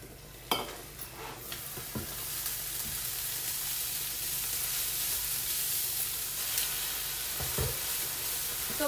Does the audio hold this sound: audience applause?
no